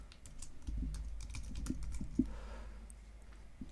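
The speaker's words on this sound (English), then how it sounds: "So I could go right on here and type someone's email address." Keys clatter on a computer keyboard as an email address is typed, a quick run of light, close taps with a few sharper strokes, no voices over them.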